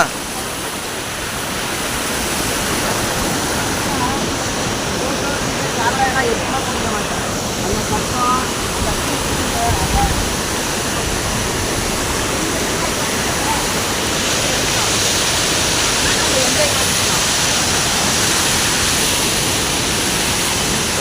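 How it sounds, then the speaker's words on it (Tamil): Waterfall at Bikkanappalli in Krishnagiri roars as a steady, broad rush of falling water, loud and constant throughout, with faint voices talking underneath. "அந்த தண்ணி சாரல் அப்படியே விழுது."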